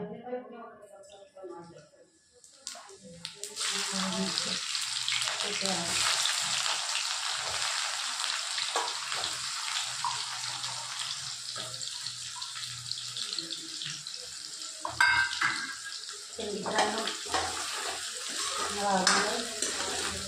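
Okra curry preparation with cumin dropped into hot oil in a pan, giving a steady broad sizzle that runs for most of the clip after a quiet start, with a few louder stirring bursts and a voice speaking over it.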